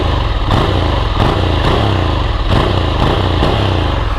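A 2023 Ducati Scrambler Urban Motard with its stock exhaust revs loudly and close by, the engine snapping up in a series of sharp throttle blips over a steady idle rumble.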